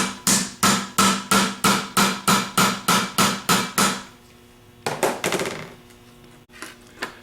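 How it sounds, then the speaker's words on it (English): Sharp metallic taps from a 3/8 socket driving the rear bearing onto a 3G alternator, about a dozen evenly spaced strikes, loud and close, then a pause and a few quicker, lighter taps. "take a 3/8 socket and tap it down on"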